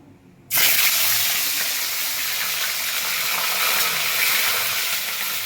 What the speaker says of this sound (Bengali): তেলটা আমার গরম হয়ে গেছে, আমি এবার ইলিশ মাছের মাথাগুলো দিয়ে দেব।